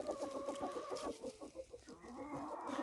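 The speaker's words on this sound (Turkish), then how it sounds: "şu orozumuz da maşallah ötmeye çıkmış" Chickens cluck and a rooster calls nearby, a busy mix of short clucks and a drawn-out crowing note, with no talking.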